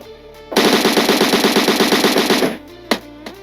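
M4 rifle fired on full auto in a video game, a loud rapid burst of about two seconds of evenly spaced shots, followed by a couple of single sharp reports.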